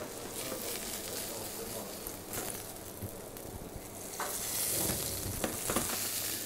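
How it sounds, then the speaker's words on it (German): Button mushrooms browning in a pot: a steady bed of sizzling and frying with occasional stirring scrapes and small pops, growing slightly louder toward the end, with no talk. "es brät so ein bisschen raus, damit die Soße nachher nicht verwässert"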